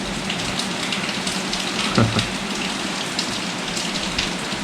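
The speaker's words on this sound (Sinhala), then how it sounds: "පේනවලට ඔයාලට සද්දය එනවනේ. වතුර වැටෙන සද්ද." Steady rain pours down, a constant dense hiss of drops hitting surfaces, with no voices.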